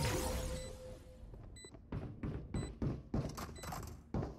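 Several doors slam shut in quick succession inside a tactical shooter game, a run of hard thunks and clattering impacts spread across a few seconds, loud and close with no talk over them.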